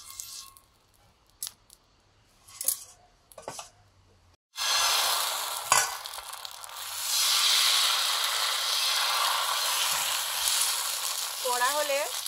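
Rice batter for chitoi and chakli pitha hitting an oil-brushed tawa bursts into a loud, sustained sizzle after a few quiet clicks and knocks, then hisses on steadily close by.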